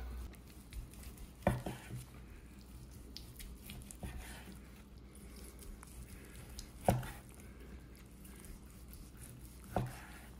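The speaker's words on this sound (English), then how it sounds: "now we're gonna slice up that pork loin" A knife slices through a roasted herb-crusted pork loin, with a few faint, soft cuts and thuds against a board spaced several seconds apart amid quiet kitchen background.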